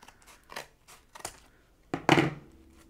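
Scissors snip paper for a handmade junk journal cover, a few quiet, crisp cuts spaced apart, ending in a louder, longer snip near the end.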